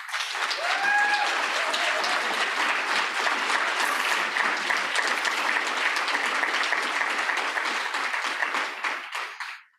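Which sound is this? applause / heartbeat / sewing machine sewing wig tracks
applause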